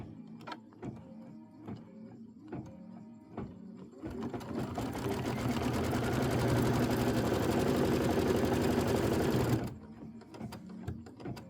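A sewing machine stitches a traditional pieced quilt block, whirring in one fast, steady run of several seconds, with soft handling clicks and taps before and after.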